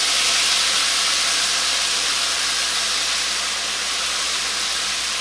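Onions hitting a hot pan with about a tablespoon of avocado oil give a steady, loud, broad sizzle that holds evenly throughout with no pauses and no talking.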